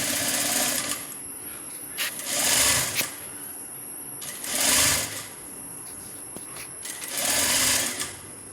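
A sewing machine stitches a layered, gathered maxi dress, its motor whirring in several bursts that rise and fall with short pauses between runs, close and steady, with no talking.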